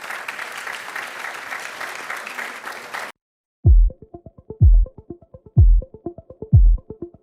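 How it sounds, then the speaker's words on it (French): Conference attendees applaud for about three seconds, a steady wash of clapping that cuts off abruptly. After a short silence, punchy music with heavy bass beats takes over. "on peut les applaudir"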